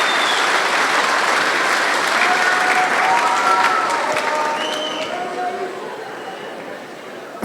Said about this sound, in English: I'd like everybody to give a round of applause to our 4 finalists